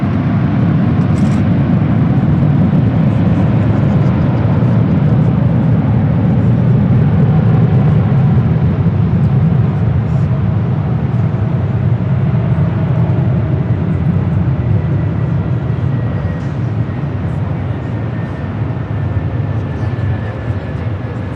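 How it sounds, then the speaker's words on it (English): Continuous loud rumbling roar of a Virgin Atlantic Boeing 787-9 Dreamliner at LAX rolling toward runway 24 left, steady engine noise filling the whole stretch with no break. "Virgin Atlantic flight 24, a 787-9 Dreamliner now rolling down to 24 left"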